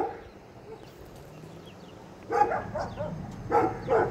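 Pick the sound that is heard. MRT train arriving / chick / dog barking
dog barking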